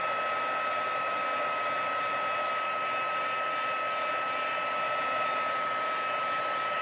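An embossing heat tool blows a steady, loud whirring hum with a high whine, heating embossing powder on cardstock until it melts glossy, unbroken and with no talk.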